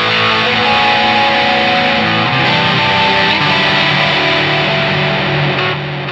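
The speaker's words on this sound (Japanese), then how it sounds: "ディレイは、普通のデジタルのシンプルなディレイですね。" Electric guitar played through a plain, simple digital delay, sustained distorted tones with repeating echoes ringing steadily for several seconds, loud and alone with no voices.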